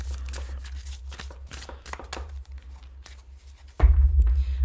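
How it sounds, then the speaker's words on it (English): A deck of tarot cards is shuffled by hand in quick, uneven bursts of papery riffling and flicking, close up, ending with a louder dull bump and rustle. "Let me shuffle this deck a little bit."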